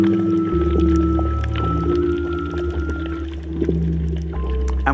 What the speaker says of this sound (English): Pure ocean sounds.